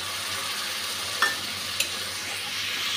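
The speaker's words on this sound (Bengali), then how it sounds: "মশলাটা খুব ভালোভাবে ভেজে নিয়েছি।" Spice paste sizzling in a hot pan with onions and whole cumin while being stirred for a fish curry, a steady soft frying hiss broken by two sharp scrapes of the spoon against the pan.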